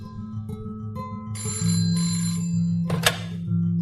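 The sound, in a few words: telephone ringing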